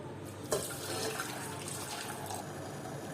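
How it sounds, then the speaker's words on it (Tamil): A cup of water poured into a soup pot, a quiet continuous splashing stream that starts with a brief onset and runs steadily to the end, fairly faint with no talking. "இதில் ஒரே ஒரு கப்பு மட்டும் தண்ணி போட்டுக்கிறோம்"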